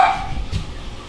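A dog barks at home, two short, fairly close barks in quick succession over a low background hum.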